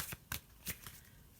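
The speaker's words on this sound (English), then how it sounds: "let me just have a quick shuffle" A Faulkner tarot deck is given a quick shuffle, the cards riffling and slapping in several crisp bursts over a soft, steady rustle, close and fairly quiet.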